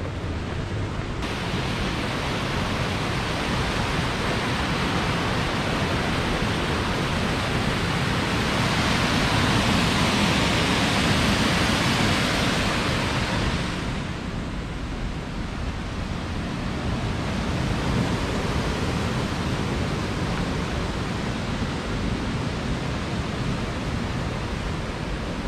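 Large waterfalls in the Var roar as a constant, broad wash of rushing water, loud and steady throughout with no voices.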